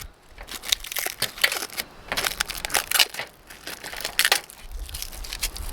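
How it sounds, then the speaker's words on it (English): Protective plastic wrap is peeled off a newly installed outdoor recessed light, giving a run of close crinkling, crackling and tearing sounds in irregular bursts with short pauses between them. "So now that this is installed, we can take off the wrap."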